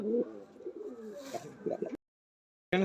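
Pigeons coo nearby in low, throaty, repeated calls, breaking off into a brief silence before another coo starts.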